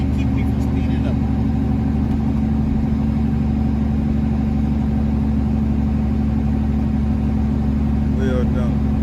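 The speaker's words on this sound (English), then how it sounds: "Jake brake is doing an awesome job choking that engine" Semi truck engine held back by its Jake brake on a steep downgrade, a loud, steady low rumbling drone running continuously from inside the cab, with a faint brief squeal near the end.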